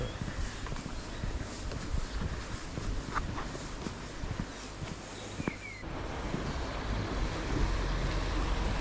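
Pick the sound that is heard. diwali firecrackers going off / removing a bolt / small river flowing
small river flowing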